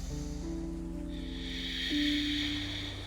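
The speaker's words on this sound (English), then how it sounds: "Breathing just like the sounds of the ocean here. Ujjayi breath." Ujjayi yoga breathing during a beach yoga session: a soft, ocean-like breathy hiss swells partway through, over steady background musical tones.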